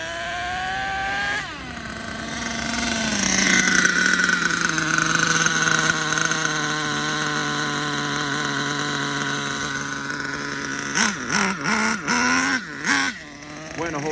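An HPI Savage 25 nitro RC monster truck engine runs steadily with a high buzzing whine, rising then holding, followed by several quick revving blips near the end, fairly close.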